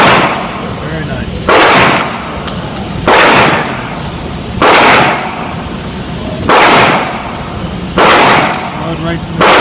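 A homemade tactical shotgun fires about six loud, sharp cracking shots at roughly evenly spaced intervals, each with a short burst of noise. Faint talk and handling sounds fill the gaps between shots.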